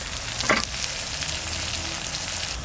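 Cumin, coriander, dried chillies and black pepper sizzle in hot oil for a duck curry, a steady close frying hiss with one sharp spatter or scrape early on, no talk.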